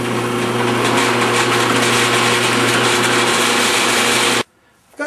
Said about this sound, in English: I've got a 1/16 inch drill bit inserted into the press